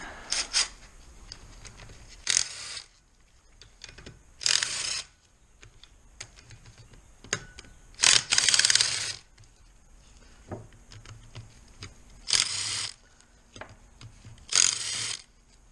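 A ratchet wrench works on the 10mm lift actuator bolts of a Celica engine during teardown, several short bursts of rapid clicking separated by pauses, close and fairly quiet.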